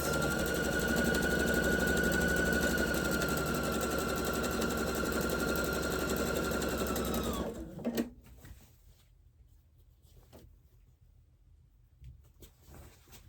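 A sewing machine stitches fabric in a steady, loud, fast whirring run for about seven seconds, then stops abruptly, leaving quiet room tone with a few faint clicks and handling sounds.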